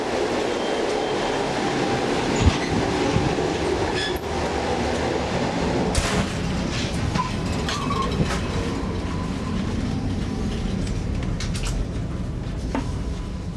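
Trans-Siberian train rolling steadily through a first-class carriage, with a constant low rumble of wheels and carriage noise, occasional clicks and faint metallic squeals, no voices.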